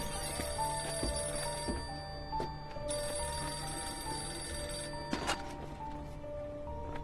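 Telephone bell ringing indoors in a Telugu action thriller film scene, steady repeated electronic rings with a brief louder clatter near the end, no talk over it.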